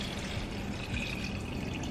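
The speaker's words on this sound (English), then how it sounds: "I'm gonna add the water." Water is poured steadily into a pot of cooking shiitake mushrooms, a continuous close splashing wash that runs evenly throughout without voices.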